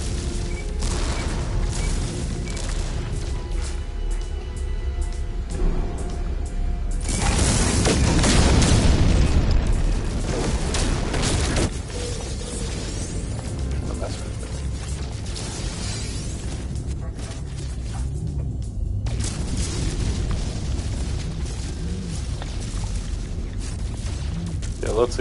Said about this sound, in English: Shooting down a fugitive hostile ship